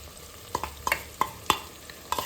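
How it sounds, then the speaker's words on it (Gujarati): Onion and yogurt sauté in oil in a pan under a steady hiss, while a spoon clacks against the pan in sharp, irregular knocks about every half second, close and clear. "અને એમાંથી તેલ છૂટે ને ત્યાં સુધી આપણે તેને અંદર સાંતળી લઈશું, હલાવી લઈશું."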